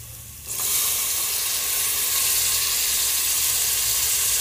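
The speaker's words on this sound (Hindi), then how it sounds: "अब इसमें हम टमाटर डालेंगे।" Tomatoes dropped into a hot pav bhaji pan, a quiet pan suddenly erupting into a loud, dense, steady sizzle that holds strong to the end, close by with no talking.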